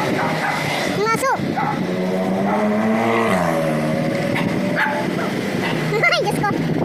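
Dog barking in a street setting in Taiwan, a few sharp yips near the start and again toward the end, with people talking over a steady background hum.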